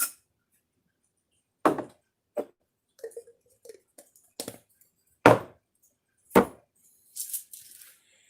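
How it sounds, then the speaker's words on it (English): A pepper mill grinds fresh black pepper over chicken noodle soup in short, crunchy bursts, about seven or eight separate twists spaced by silence, close and fairly loud. "put in a few grinds of black pepper, freshly ground"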